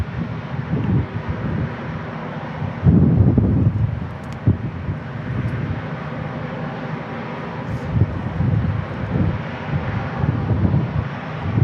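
A jet airliner climbs out after takeoff from San Diego International Airport over Point Loma, a distant low rumbling roar under gusty wind noise on the microphone, swelling midway and lingering.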